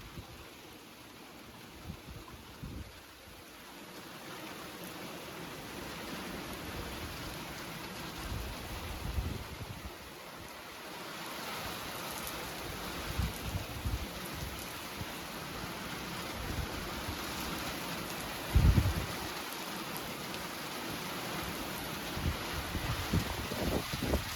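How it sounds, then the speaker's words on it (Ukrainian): Steady rain patters over a broad wash of wind noise, with occasional gusts and a brief bump near the end; no one speaks. "Хай трошки накрапає дощ, бо дуже жарко."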